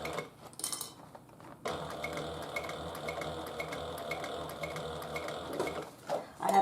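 A sewing machine stitches the top zipper of a Paulette handbag, a steady mechanical whirring and clicking that starts after a short pause and runs continuously at a moderate, close level.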